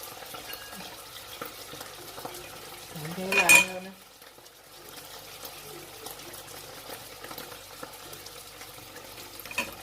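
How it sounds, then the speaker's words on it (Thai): Beef with chili curry paste and vegetables being stir-fried in a pan, with soft scraping and sizzling throughout and one loud clattering stir near the middle. "ผัดพริกแกงเนื้อใส่ผัก ใส่มันไปเถอะ หลายๆอย่าง"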